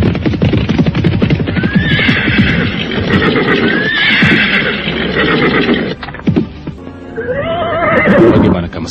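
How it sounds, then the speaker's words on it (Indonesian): Galloping horses for a radio drama sound effect, dense pounding hoof beats joined by loud repeated neighs and whinnies, close and vigorous throughout. "3 ekor kuda yang membawa 4 orang itu segera berderap menuju ke perkampungan"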